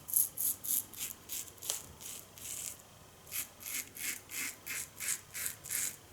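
A Merkur 45 safety razor in red and black Bakelite scrapes across lathered skin on a first pass, making a steady series of short, crisp rasping strokes close by, each about a third of a second long.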